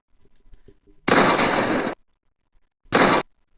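Video game gunfire, two loud harsh bursts close up, the first lasting close to a second and the second shorter, separated by silence, with faint clicks before them.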